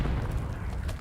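Grenade explosions in a Call of Duty video game: dense, continuous low booming and rumbling, loud and sustained across the moment with no pauses.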